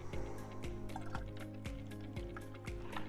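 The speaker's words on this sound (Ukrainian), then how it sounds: "Беремо наш пакет і розбавляємо його на 2-3 літри води. Додаємо водички." Water poured in to dilute a treatment solution to two or three litres, a soft, close liquid filling sound with dripping and gurgling pulses, no talking.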